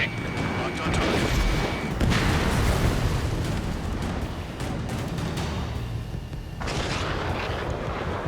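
In the Ace Combat 7 flight game, missile launches and explosions rumble in dense, sustained booms and roaring blasts, with radio voices speaking over the noise.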